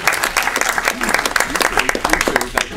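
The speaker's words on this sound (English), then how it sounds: "So let's give Larry a round of applause." Audience applause at a Richmond Chamber of Commerce awards event, a steady dense patter of many hands clapping for nearly three seconds, fairly loud, with a few voices mixed in.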